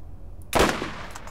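A single sharp gunshot rings out in the shooter video game Borderlands, a sudden loud crack whose echo tails off over about a second.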